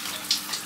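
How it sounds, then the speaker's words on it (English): A hot shower at a marina runs in a steady hiss of spraying water, close by and continuous, with small splashy surges and no talking. "Free long hot shower."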